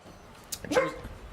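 A dog gives a short, sharp bark with a slight yelp, heard once up close against a quiet background.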